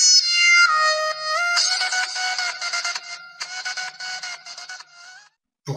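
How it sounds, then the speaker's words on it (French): A bright, bouncy Marimba iPhone default ringtone melody plays alone, a cheerful pattern of mallet notes that stops abruptly near the end. "Actuellement la sonnerie est Marimba, la sonnerie par défaut"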